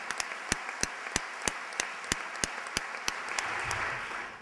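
Audience applause at the proclamation ceremony for the 2013 Falleras Mayores of Valencia, a sparse run of a few distinct, evenly spaced claps over a soft hall ambience that swells slightly toward the end.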